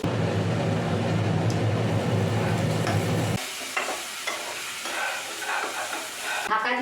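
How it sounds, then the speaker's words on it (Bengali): Crab masala sizzles and fries in hot oil while being stirred, a dense frying hiss that suddenly drops to quieter crackles and scraping partway through, with no talking. "এবার আমি আরেকটু নেড়ে দিয়ে জল ঢেলে দেবো"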